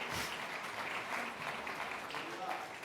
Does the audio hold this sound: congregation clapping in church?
yes